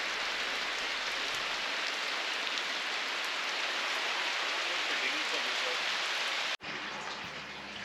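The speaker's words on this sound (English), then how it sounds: "The rain isn't necessarily rain down here. It's more of a wall of water that gets unleashed." Heavy tropical rain pours down in a dense, steady hiss, like a wall of water. The roar cuts off abruptly near the end and resumes softer.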